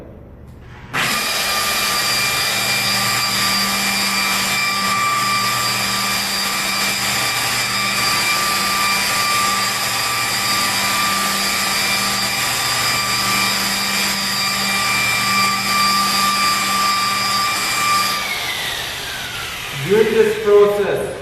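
A car detailing polisher with a pad runs at 1,400 RPM, a loud, steady high whine held for about seventeen seconds before spinning down, followed by brief handling knocks.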